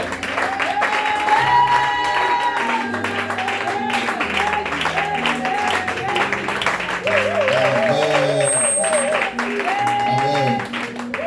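A church congregation applauds and cheers in praise of the Lord, sustained clapping and voices filling the room while music plays underneath throughout.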